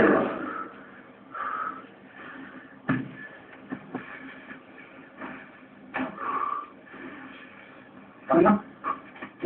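A dog snorts and whimpers softly up close, with short sniffs and huffs scattered between quiet pauses.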